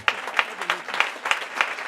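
Church congregation applauding in rhythmic clapping, steady claps close and fairly loud across the whole moment with a faint crowd murmur beneath.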